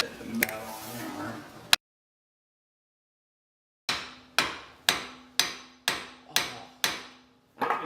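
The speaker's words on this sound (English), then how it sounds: "Yes, of course I have a hammer. Shit, the metal hammer." Eight sharp metallic blows from a metal hammer ring out at a steady pace after a moment of silence, each strike loud, close and briefly resonant, while working on a Mazda Miata steering rack.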